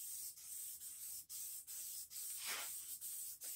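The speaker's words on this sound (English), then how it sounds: "So now I'm going to start painting it. Primer first. Put a quick primer on it." Primer sprayed from a rattle can onto a cheap John Deere LA100 riding lawn mower, heard as a steady hiss of bursts broken by short pauses, with one stronger sweep in the middle, close and without talk.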